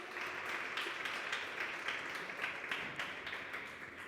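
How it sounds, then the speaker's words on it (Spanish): A church congregation claps for the Lord during a pastor's sermon; the quiet, continuous applause has distinct individual claps rising and falling throughout. "¿Puedes darle un aplauso al Señor?"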